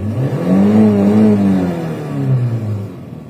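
A Samand LX car engine runs and revs up, rising then falling in pitch, loud and close, with no talking.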